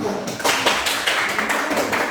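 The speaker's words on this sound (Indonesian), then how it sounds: "Kita tepuk tangan." Students in a classroom clap their hands for a presenting group, a close, lively run of sharp claps at an uneven pace, steady and fairly loud throughout.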